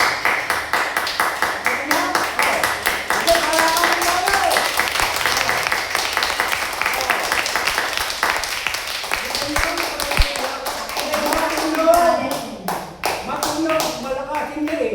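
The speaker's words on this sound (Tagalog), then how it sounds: "Yung palakpak niya, yan ang palakpak na malapit ng mamatay." Hands clap in a steady, fast run of sharp taps through a charismatic praise prayer meeting, continuing close and loud for the whole stretch while voices sing and talk underneath.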